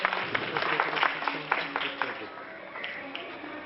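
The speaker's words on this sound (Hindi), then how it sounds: "जोरदार तालियां उनके लिए" An audience at a Darululoom Rahimia Trust event in Mira Road claps in a dense patter of hands that fades gradually over a few seconds, faint and slightly muffled.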